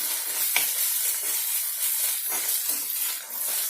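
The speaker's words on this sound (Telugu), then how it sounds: "ఇది కూడా మనం మంచిగా అల్లం వెల్లుల్లి పచ్చివాసన పోయే వరకు వేపుకోవాలి" Ginger garlic paste sizzles and fries in a pan with a steady hiss throughout, broken by a few soft stirring scrapes; no voices are present.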